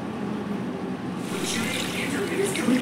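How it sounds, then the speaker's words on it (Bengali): Water poured into a pan of simmering Bata fish curry with potatoes, a soft steady splashing pour that swells after a quiet start and runs on to the end over the sizzle. "এই দেখুন জল দিলাম"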